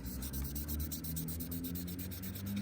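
A resin 3D-printed car body being sanded by hand with 1000 grit sandpaper, a close, continuous rhythmic scrubbing with quick regular back-and-forth strokes.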